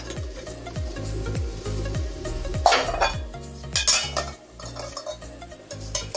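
A metal cooking pot and its lid clank and scrape while curry beef cooks, with repeated close knocks and clinks in an uneven rhythm and a couple of sharper metallic hits. No voices are heard.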